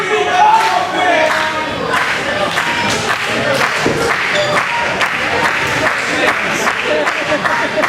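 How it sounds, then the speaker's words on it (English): Wrestling crowd at an indoor match cheering and chanting for "Hot Sauce" Tracy Williams in his bout with Darius Carter, a loud continuous roar with rhythmic shouts and claps throughout. "The crowd rallying for Hot Sauce here."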